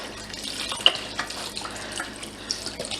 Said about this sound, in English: I'm also going to put 1 more box of the chicken broth in there. It's just splashing everywhere.